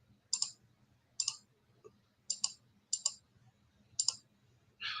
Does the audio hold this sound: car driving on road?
no